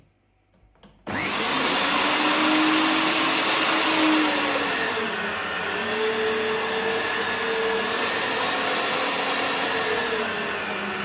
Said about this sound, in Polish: mielę sam boczek no musimy tutaj nadać odrobiny kleistości, a przy okazji zmielę sobie 15 gramów czosnku